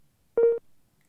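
A short electronic tone run through an audio processor's reverb with a small offset added: one bright, steady burst lasting about a quarter second, followed by a fainter, separated tail that fades into quiet.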